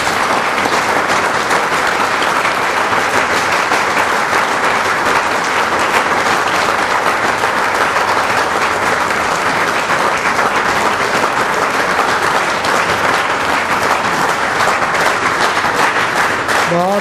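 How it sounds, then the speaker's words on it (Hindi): An audience at a book launch applauds loudly and continuously for the whole stretch, a dense, even wash of many clapping hands with no pauses. "तालियां बजाने में आप कंजूस नहीं हैं"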